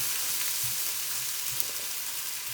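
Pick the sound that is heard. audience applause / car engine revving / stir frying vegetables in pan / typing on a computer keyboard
stir frying vegetables in pan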